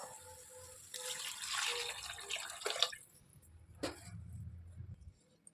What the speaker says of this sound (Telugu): ఇప్పుడు వాటర్ పోసుకో.